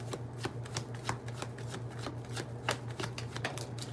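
Tarot cards are shuffled by hand in a steady run of crisp, rapid riffling flicks and soft slaps, close and continuous over a low background hum.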